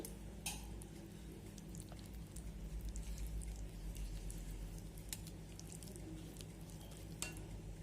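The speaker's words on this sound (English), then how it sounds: "Now mix all these well." Eggless carrot cake batter being stirred and mixed in a bowl, a soft continuous scraping and sloshing with faint clicks of the utensil against the sides, steady and close throughout.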